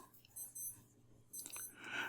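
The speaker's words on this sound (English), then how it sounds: "that was my alarm going off" An alarm goes off in short, intermittent bursts of high electronic tones, moderately faint and set against a low background hum.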